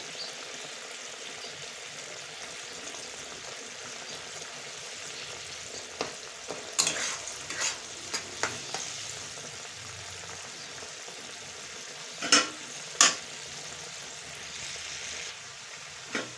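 Crushed dried chillies being stirred into grape pickle in a pan, giving a steady soft sizzle with scattered scraping clicks of the spoon, a few sharper knocks near the end, close and without talk.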